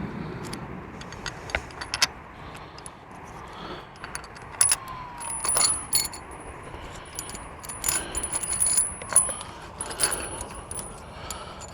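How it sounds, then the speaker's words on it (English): Metal washers stacked one by one onto a bolt while building a wire antenna, giving scattered light clinks and jingles at close range, fairly quiet, with small handling noises between them and no talking. "I'm just putting a ton of washers on."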